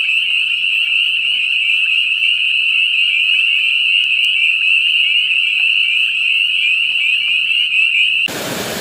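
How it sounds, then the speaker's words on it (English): Dense, loud chorus of frogs croaking nonstop in the Catskill Mountains of New York, a shrill, even drone that fills the air before cutting off abruptly at the end. "These are frogs, guys. This noise that you hear,"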